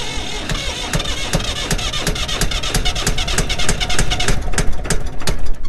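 An auction-bought piece of equipment with about 3,291 hours on it is cranked at full throttle, its engine sputtering and rumbling close by in a steady, rough churn that builds slightly louder toward the end, with no talk.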